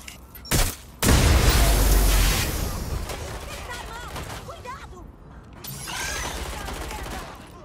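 In the video game Watch Dogs: Legion, a bomb explodes with a sudden loud boom and heavy crackling blast that rolls on and slowly fades, followed by softer rumbling and bursts of debris.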